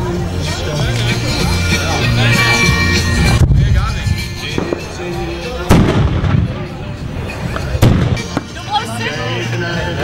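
Carbide-charged milk churn cannons fire at a New Year's gathering in Kollumerzwaag, loud booming blasts, several close and a few farther off, cracking out irregularly over a murmur of people talking nearby.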